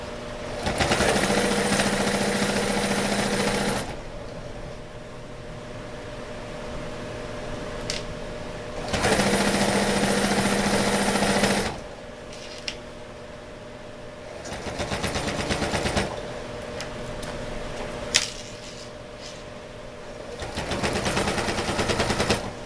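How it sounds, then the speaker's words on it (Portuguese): Sewing machine backstitching bias binding at the top of a fabric pocket on a kitchen organizer, loud rapid mechanical stitching in three bursts separated by quieter pauses. "Eu vou dar um retrocesso no viés pra ficar bem seguro a parte de cima do bolso"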